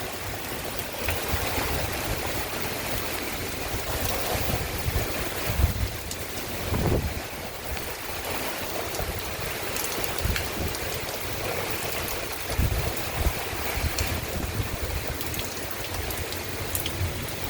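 A thunderstorm in Virginia Beach brings heavy rain and gusting wind: a dense, steady wash of falling water with rumbling wind surges, continuous and fairly close, without talk.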